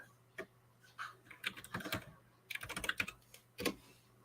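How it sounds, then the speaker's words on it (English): Keys clatter loudly on a computer keyboard in irregular bursts of fast typing with short pauses between, close by and with no talking. "My keyboard is extremely loud."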